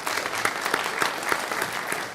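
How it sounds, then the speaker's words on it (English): Audience applause for a Texas state senator being introduced, steady dense clapping at moderate loudness filling the whole moment with no voice over it. "yes, please clap for that"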